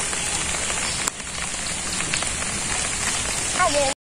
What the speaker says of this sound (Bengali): তারপর বৃষ্টি নামলো, আবার রোদ উঠলো